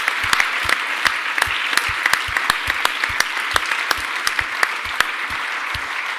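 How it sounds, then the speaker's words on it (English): Audience applause at a security conference closing ceremony, a dense crowd clapping steadily with crisp individual claps standing out near the front, sustained throughout without talk. "a big round of applause also for him"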